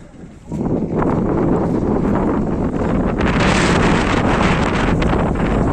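Strong wind roars loudly and steadily across a wildfire site in Turkey, a broad gusty rush with buffeting on the microphone that rises after a brief quiet start and continues unbroken.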